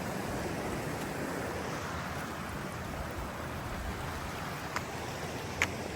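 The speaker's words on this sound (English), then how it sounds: "I could just hear the water" Steady broadband rush of stream water flows near a hidden waterfall in Tujunga, California, a constant even wash without pauses, with a couple of faint ticks near the end and no voices.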